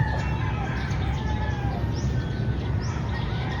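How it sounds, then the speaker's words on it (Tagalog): Birds chirping faintly in the distance on a misty, cold morning in the Philippines, over a steady outdoor background hum, with a couple of brief rising calls. "Ayan yung mga ibon"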